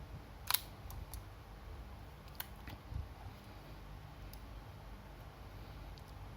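A camera shutter fires during a functional test, with one sharp close click early on followed by a few fainter clicks and small handling ticks over a quiet background.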